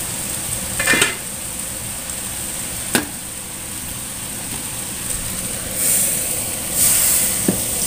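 Water is poured into a pan of sautéing rendang spices, bringing a steady hiss and sizzle broken by a few sharp clanks of a utensil against the pan, with no talking.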